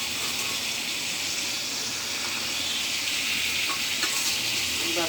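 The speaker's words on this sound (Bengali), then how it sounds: "মাছগুলো দিয়েও ভালো করে এখন কষায়" Tilapia fish pieces sauté in hot oil in a pan, sizzling steadily and loudly throughout, with the soft scrape of stirring mixed into the constant hiss.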